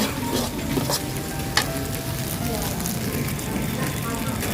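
Nam with spring onions and young chili peppers stir-fries in a pan, a steady close sizzle with scraping stirs and the occasional clack of a utensil, while someone talks over it.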